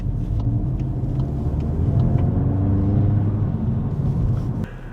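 Volkswagen Golf GTI Clubsport burbling through town streets in Laois, a steady low engine rumble heard from inside the car that holds level for several seconds before easing off at the end.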